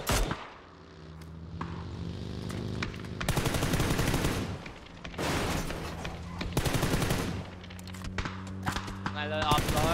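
Rapid automatic gunfire bursts in a video game, loud and repeated in several long volleys with short gaps, while players talk over the shooting.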